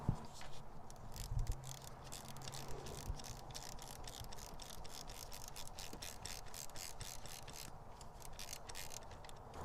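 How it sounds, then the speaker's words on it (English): A hand ratchet tightens the crank pulley bolt on a Toyota 3.4L 5VZ-FE V6 during timing belt work, giving a fast, steady stream of faint metallic pawl clicks that runs evenly throughout, with a few small knocks and no speech. "as I tighten this bolt, it's going to drive the seal all the way in"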